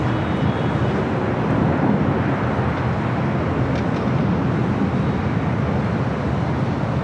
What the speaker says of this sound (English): this is Delta Airlines 2096 taking off to New Orleans, 737-900ER